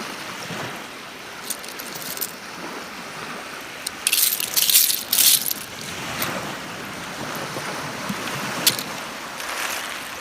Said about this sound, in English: Here comes the waves, and here comes the tide.